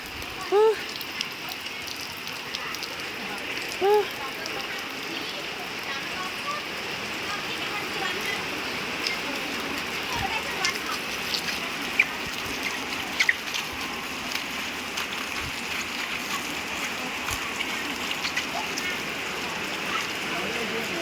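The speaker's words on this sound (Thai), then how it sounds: "ยิ่งมีฝนอีกแล้ว" Steady rain patters and hisses on surfaces all around, a dense, even wash of sound with a few faint brief voices.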